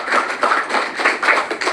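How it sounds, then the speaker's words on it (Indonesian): A church congregation claps in praise, rhythmic, close-sounding clapping in steady pulses, loud and without speech. "Sekali lagi dong beri tepuk tangan bagi Tuhan Yesus Kristus"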